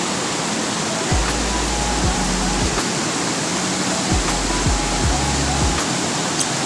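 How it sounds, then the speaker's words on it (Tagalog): A waterfall roars with steady, dense rushing water heard from up near its top, loud and continuous with no talking. "Nasa tuktok tayo kaya kita natin yung agasas ng tubig."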